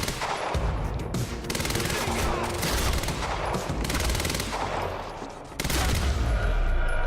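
Dense gunfire from the video game Quantum Break, rapid overlapping shots and bursts forming a loud, continuous barrage that dips briefly before surging again.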